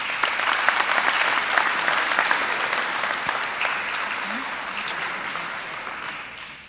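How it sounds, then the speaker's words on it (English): An audience at a business honors society induction claps for the honorees in a full, sustained round of applause that fades gradually toward the end. "let's give one more round of applause for our honorees"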